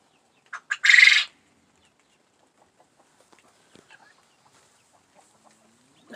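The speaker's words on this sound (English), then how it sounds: "I'm letting my quail free range." A free-ranging quail gives a short burst of calls, a few quick notes then a louder call near the start, followed by faint scattered chirps and small outdoor sounds.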